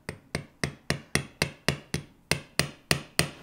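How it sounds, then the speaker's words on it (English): A small hammer taps sterling silver balls flat on a wire ring for a rough stone, eleven crisp metallic taps at an even, steady rhythm, close and clear with nothing else heard. "Just take your hammer,"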